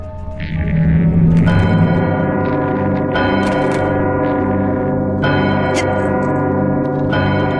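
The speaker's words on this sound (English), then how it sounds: "Just a big bell." A big bell in the video game Psychonauts rings loud and resonant, struck several times with long sustained, shimmering tones overlapping one another.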